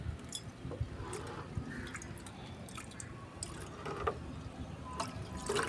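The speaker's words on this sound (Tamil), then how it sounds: "அப்படியே கொஞ்சம் தண்ணி ஊற்றுங்க." Water poured into turmeric powder in a small container, soft close drips and wet trickling splashes that come and go over a quiet, slightly noisy background.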